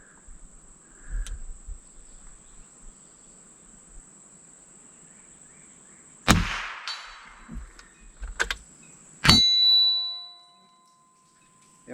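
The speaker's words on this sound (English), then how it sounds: "Let's do another one in that same 8-inch gong." A MAS45A Mauser training rifle fires at an 8-inch steel gong. Crickets chirp steadily in the background, then two sharp cracks each bring a ringing metallic clang, the second one louder and humming as it decays.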